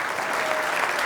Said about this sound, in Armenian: շնորհակալություն ծափերի համար